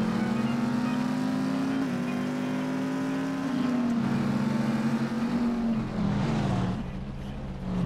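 Race car engine in the video game The Saboteur holds a steady loud drone with shifting pitch, revving up and down continuously throughout, with faint voices mixed underneath.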